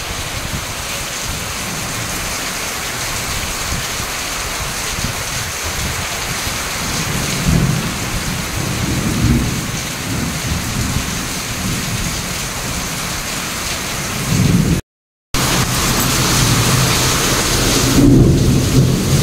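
A heavy downpour of rain with rolling thunder gives a continuous loud hiss of falling water, deep rumbles swelling in and out, a brief dropout in the middle and no talking.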